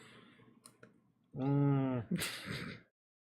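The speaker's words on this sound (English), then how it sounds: "Gotta love shuffling cards with sleeves." Sleeved playing cards are shuffled at a tabletop board game session, giving a loud, close riffling burst followed by a shorter flurry of rustling and clicking, with faint room sound before and silence after.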